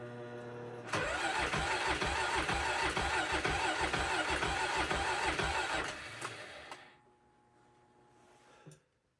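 A car engine cold-starts at 8 degrees Fahrenheit: a brief crank, then it catches into a loud, steady, rough idle. The idle runs for about five seconds before the engine shuts down and the sound fades to near silence.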